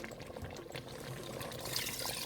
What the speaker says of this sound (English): Okay, I've added more water.